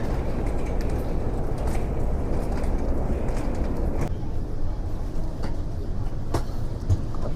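Steady rumble and rattle inside a passenger train running from Montreal to New York, a constant loud rolling drone with occasional clacks and faint voices in the background.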